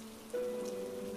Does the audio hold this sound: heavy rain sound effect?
yes